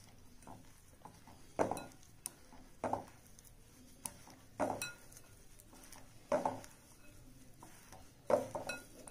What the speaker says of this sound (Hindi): अब सबको अच्छे से मिक्स कर लेना है।